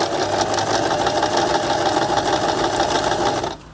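Domestic sewing machine, not the quilting type, stitching fabric scraps for a journal cover, a loud, close, continuous whirring hum with rapid needle chatter that stops abruptly near the end.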